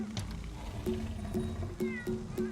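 A cat meows repeatedly in the video game Monster Hunter World, several short tonal mews at a quick uneven rhythm, fairly quiet over faint game background sounds.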